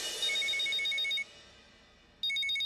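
A telephone rings in two loud bursts of electronic tone, a short lull between them, with no one speaking over it.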